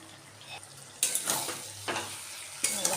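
Cabbage curry with garam masala is stirred in a pan with a spoon, giving several scraping, sizzling bursts of stirring over a steady low frying hiss, close and fairly loud, with no talking.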